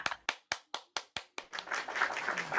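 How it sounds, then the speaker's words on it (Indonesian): A small group clapping for Nora, starting with seven slow, sharp, evenly spaced claps that then break into a quicker, denser burst of mixed clapping, close and fairly loud. "Tepuk tangan Nora."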